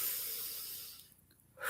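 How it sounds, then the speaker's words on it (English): A deep breath drawn slowly and let out during a guided stress-processing exercise, starting as a broad, close hiss that fades into near silence, then a brief renewed breath at the very end, with no talking. "now I want you to take a few deep breaths"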